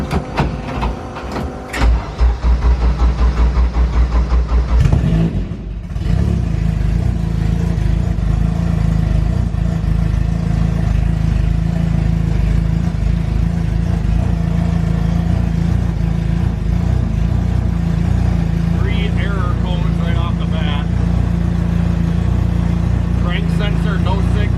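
A Honda K20-powered car with a crank sensor fault code cranks over and fires up, then settles into a steady, close idle that drones on alone for the rest of the moment.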